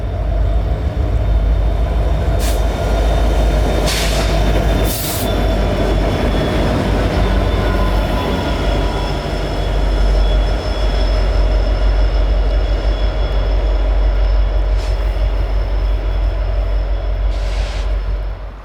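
An Amtrak passenger train rolls past at Horseshoe Curve, Pennsylvania, in winter, a loud continuous rumble of wheels on rail with low engine drone throughout and a few sharp clanks and squeals along the way.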